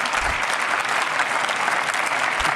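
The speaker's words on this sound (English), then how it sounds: "I'm playing a clap sound effect" A canned clapping sound effect played during a live show: dense, steady applause from a crowd, loud and continuous throughout with no voices on top.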